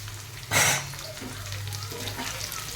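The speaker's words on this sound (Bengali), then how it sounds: "আলুগুলো দিয়ে একটু ভাজবো, তারপরে আদা রসুনের পেস্টটা দেবো।" Potatoes tipped into hot oil over browned onions set off a sudden loud burst of sizzling, then a steady frying hiss continues through the rest.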